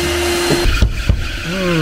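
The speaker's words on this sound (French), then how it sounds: "maintenant, un petit coup d'aspirateur." A vacuum cleaner drones steadily while sucking sandy desert dust out of a 4x4 in a garage in Foumzguid, Morocco, a close, loud whine with shifting pitch and brief gusty bursts as the nozzle moves.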